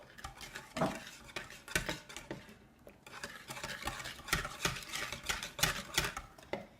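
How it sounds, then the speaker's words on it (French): Stirring batter for Nutella muffins in a bowl, with repeated scraping and clinking strokes of a utensil against the sides, close and steady over several seconds. "Donc, on va continuer de mélanger."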